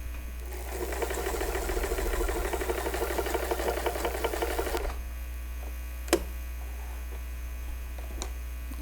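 A home sewing machine runs a small zigzag stitch in one steady buzzing burst of about four seconds, close and fairly loud, then stops, leaving a low mains hum and a couple of faint clicks.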